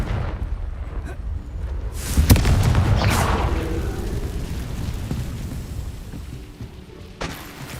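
In Hogwarts Legacy, a Confringo fire spell goes off as a sharp, heavy boom partway through, set against steady game ambience with rumbling before and after it and a fainter burst near the end.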